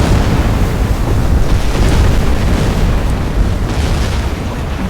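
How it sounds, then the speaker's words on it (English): Torpedoes striking cargo ships in a convoy in the submarine game Silent Hunter 4, heavy booming explosions merging into a loud, sustained roar with a watery, surf-like rumble underneath. "Torpedo impact."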